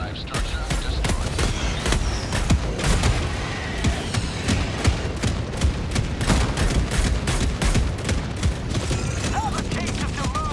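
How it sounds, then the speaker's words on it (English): Rapid mech weapon fire in the video game Helldivers 2, a dense sustained barrage of gunshots and booms pounding continuously throughout, loud and close. "we're all pelting this thing with mech fire"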